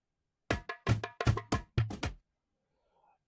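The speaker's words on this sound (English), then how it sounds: "And then a top loop like that." Afro House top loop percussion: a quick run of punchy, bright hits with low thumps on several beats, played alone and close for about two seconds before stopping.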